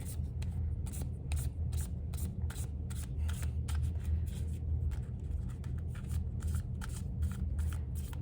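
An animal oracle card deck is shuffled by hand in a steady run of soft, papery riffles and flicks, close and fairly quiet, continuing without pause and with no voices.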